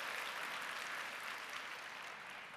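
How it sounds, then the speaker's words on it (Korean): Seminar audience applauding a company chairman, a soft, distant, even patter of many hands that holds steady, then eases slightly toward the end. "여러분들 우리 회장님을 위해서 박수 한번 칠 수 있습니다"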